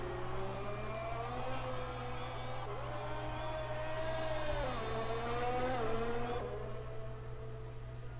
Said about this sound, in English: Bad Pose is running a lap here right now in that racing point.